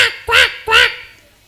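A child imitates a duck's quack with the voice during a Tamil school competition: two loud, nasal quacks in quick succession, each about a quarter second, spoken alone.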